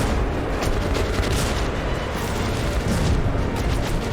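Dense, continuous gunfire fills a battle in the video game Metro: Last Light Redux, loud booming shots and rattling automatic bursts layered into an unbroken roar with no talking.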